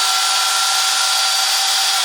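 A home-built CNC router spindle spins up, giving a steady, loud high-pitched whine with a sustained tonal hum throughout, close by and with no voices.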